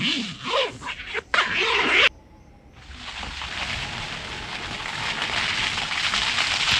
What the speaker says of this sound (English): It's raining hard, ice.